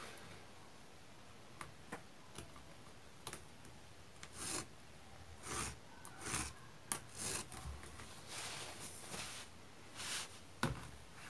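A marker or pencil drawing a pattern on the fabric of a bread bag, with quiet scratchy strokes across cloth, occasional light taps and rubbing sounds in uneven bursts, close and soft, with no talking.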